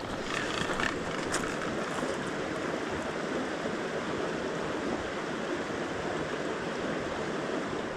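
Small woodland creek in Colorado, partly frozen over, giving a steady close rush of flowing water that stays constant throughout.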